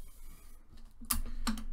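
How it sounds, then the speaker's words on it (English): Adhesive tape pulled off the roll for a straw-and-paper-hoop glider craft: a quiet lead-in, then two sharp ripping peels close by. "So we're going to take our tape"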